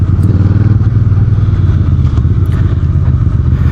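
A 2026 VOGE CU625 AMT automatic cruiser motorcycle pulls hard with a loud, close, throbbing engine note that pulses steadily through the run, shifting up under throttle with no voices.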